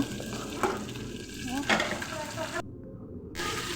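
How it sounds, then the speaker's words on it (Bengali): Green chillies fry in hot oil with a steady, close sizzle and occasional stirring scrapes, briefly dropping out near the end. "তেল গরম হয়ে আসলে মরিচগুলো দিয়ে দিলাম, কাঁচামরিচ। এটা কিছুক্ষণ ভেজে নিব।"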